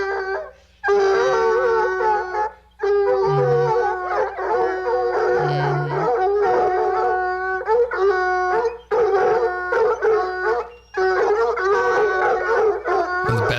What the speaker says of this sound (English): So, the barking dogs.